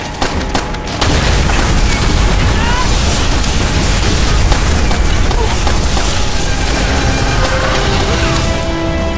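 Explosive charges detonating in the Call of Duty: World at War campaign, a loud sustained barrage of booms and crackling blasts that starts after a brief quieter moment and rumbles on continuously throughout.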